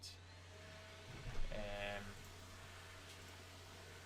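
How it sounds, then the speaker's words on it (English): A Hoover vacuum cleaner drones steadily in the background, a low continuous hum with a brief rise in pitch and loudness midway, faint and distant throughout. "Apologies if you can hear that Hoover."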